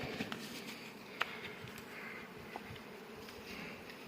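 Honey bees at an apiary of around sixty colonies during an acacia honey flow: a soft, continuous buzzing hum with occasional nearer passes, faint and without speech.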